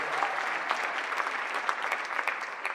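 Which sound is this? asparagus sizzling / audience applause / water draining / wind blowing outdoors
audience applause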